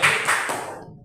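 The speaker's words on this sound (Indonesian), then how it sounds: "Tepuk tangan buat teman kita." Brief classroom clapping for a student, a short burst of a few hand claps that quickly fades away.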